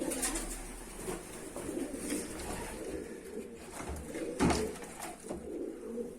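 Soft, low cooing of pigeons repeats through the clip, with rustling and faint clatter in the background.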